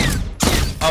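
Pistol shots fired in the video game Project Stray: two loud, sharp bursts about half a second apart, each ringing briefly before the next.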